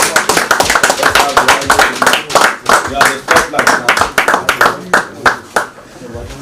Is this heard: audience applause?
yes